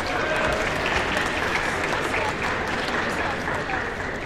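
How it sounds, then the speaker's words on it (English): A crowd at a high school senior night applauds steadily, dense continuous clapping filling the whole stretch without pause. "Big round of applause for Benjamin Parsons."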